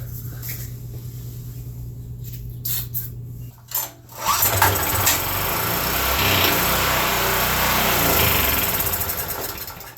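A Generac GP1800 portable generator's small engine sputters and then catches, settling into a steady, buzzing run that continues at an even level.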